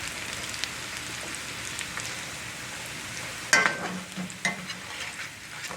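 Potatoes and onions fry in a pan, a soft steady sizzle with a sharp clatter of stirring midway followed by a few more scrapes.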